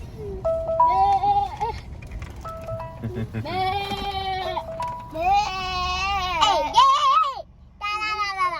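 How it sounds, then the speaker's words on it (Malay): Several goats at a family petting zoo in Serdang bleat loudly and repeatedly at close range, overlapping wavering cries with brief gaps between calls. "Banyaknya kambing ni."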